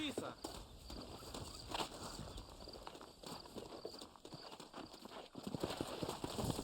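Horse hooves clip-clop steadily in the Red Dead Redemption video game, a continuous rhythmic trot under game ambience, growing somewhat louder toward the end.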